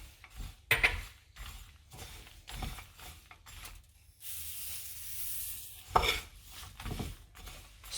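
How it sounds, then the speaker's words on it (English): A seed and nut mixture for healthy snack balls is stirred in a bowl, with close scraping and rattling and a few sharper clinks of the utensil against the dish. "keep mixing it."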